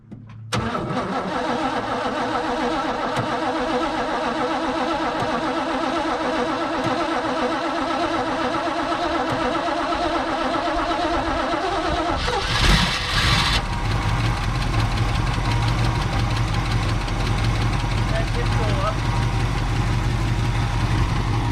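A 1964 Chevrolet Bel Air engine cranks and catches, then settles into a steady, loud idle close by; around the middle a brief, harsher burst of revving rises before the idle resumes.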